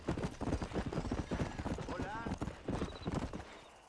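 Steady clip-clop of galloping horse hooves in Red Dead Redemption, fast and rhythmic close by, with a whinny partway through and someone talking over it.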